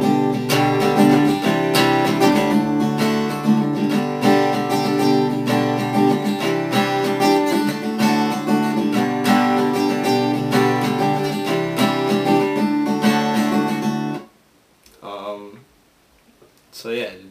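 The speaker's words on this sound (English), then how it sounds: "It's kind of a fast strumming pattern actually, but it's gonna sound something like this." Acoustic guitar strummed fast and evenly in the pattern of a song, loud and close, chords ringing continuously before stopping abruptly, followed by a brief spoken sound.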